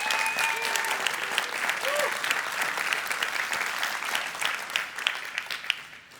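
Enthusiastic applause from a crowd at a conference keynote, dense sustained clapping with a few faint whistles early on, holding steady then thinning toward the end.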